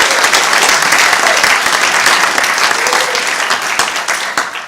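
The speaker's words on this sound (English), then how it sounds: "Let's give the choir another big round of applause." An audience applauds a choir after a WW1 remembrance concert in Elstead, with loud, dense clapping from many hands sustained throughout and slowly easing toward the end.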